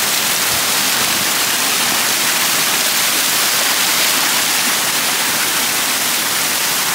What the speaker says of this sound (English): Nice little waterfall coming down.